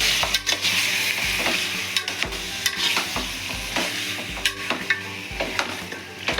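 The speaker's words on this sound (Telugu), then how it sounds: "మంచిగా కడుక్కొని ఇట్లా కలబెట్టుకోవాలి" Mutton curry stirred in a pan, a steady loud sizzle broken by repeated rhythmic scraping and knocking of the spoon against the metal, close and without talk.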